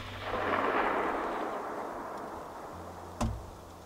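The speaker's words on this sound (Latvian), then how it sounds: "Šāviens pa alni." Rifle shots fired at a moose during a driven hunt in forest: a booming report that rolls away in a long echo, then a second, sharper crack near the end. No one speaks.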